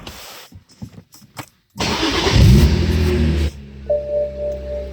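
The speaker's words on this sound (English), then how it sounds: "I'm going to start the car." A few clicks, a brief pause, then a BMW Z4 engine cranks and roars to life loudly before settling into a smooth idle hum.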